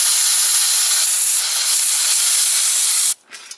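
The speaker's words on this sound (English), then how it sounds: "we can even give it compressed air in the opposite direction" Compressed air blasts through a nozzle into a Tesla turbine with a loud, steady hiss for about three seconds, then cuts off abruptly, followed by a few brief faint puffs.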